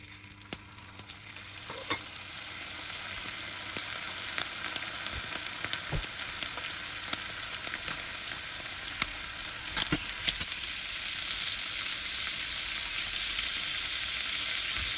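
A burger steak fries in a little oil and butter in a hot pan, a steady crackling sizzle with sharp pops throughout that grows slightly louder and denser toward the end, with no talking.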